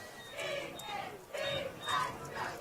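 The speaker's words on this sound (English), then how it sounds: "here's some jeers from the crowd" A crowd of spectators in the stands at a high school football game jeers and yells in loud rising waves.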